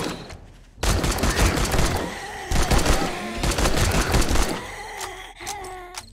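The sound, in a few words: gunfire from a gun in the video game 7 Days To Die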